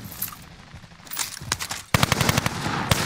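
Rapid automatic gunfire from Call of Duty Warzone, bursts of machine-gun shots that start sparse, then turn dense and loud in the second half.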